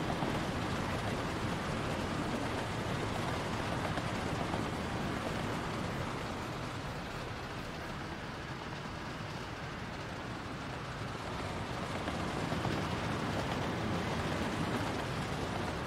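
Steady rain in the city-building game Workers and Resources, a dense, even hiss that fills the whole stretch without a break and carries no voices.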